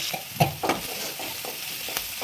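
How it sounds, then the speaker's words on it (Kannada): Chopped onions frying with salt in a pan for tomato rice, a low steady sizzle under a few sharp spoon scrapes and taps against the pan, close and fairly loud. "ಸಾಲ್ಟ್ ಹಾಕೊಂಡು ಈರುಳ್ಳಿ ಸ್ವಲ್ಪ ಫ್ರೈ ಮಾಡ್ಕೊಡೋಣ"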